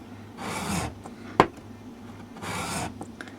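A tool bevel is pushed by hand across a sharpening stone to raise a burr, giving two slow, soft rasping strokes with a sharp click between them, close and quiet.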